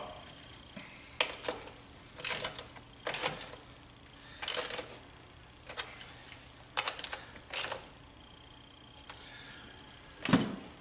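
Sharp metallic clicks and short ratcheting bursts come from a ratchet snugging the negative cable nuts onto golf cart battery terminals, arriving as a dozen or so separate close bursts with brief pauses between them and no talking.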